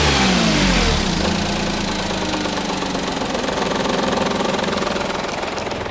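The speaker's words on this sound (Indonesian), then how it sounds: "Karena di starter udah ngekekekek, mesinnya ini kan kayak gini kencang di starter." A Toyota Agya / Daihatsu Ayla petrol engine revs hard at first, then settles into a steady, loud, close running drone with a rough knocking texture, no voices present.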